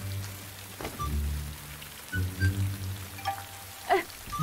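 Rain falls in a period drama scene as a soft, steady hiss beneath low sustained tonal sounds, with a few brief brighter accents.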